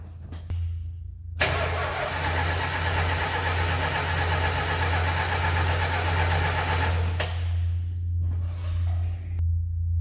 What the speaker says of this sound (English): we're going to go ahead and try to start the car.